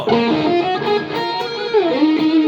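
A distorted electric guitar, a Fender Deluxe Stratocaster HSS through a MOOER GE-200 multi-effects pedal, plays a continuous, bending solo line with heavy effects, loud and close, with no talking.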